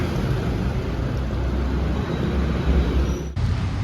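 Street traffic at a bus stop in Athens: a continuous, fairly loud road roar with passing vehicles, ending in an abrupt cut.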